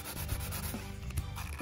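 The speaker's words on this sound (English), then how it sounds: "So we're gonna just lightly sand this." Light hand sanding over a layered painted surface, yellow showing through blue, a steady soft rubbing and scraping texture with faint strokes, close and continuous throughout.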